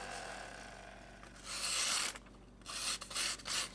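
A Chef's Choice electric knife sharpener grinding a kitchen knife blade, a steady raspy rubbing with several separate strokes toward the end, close and fairly quiet.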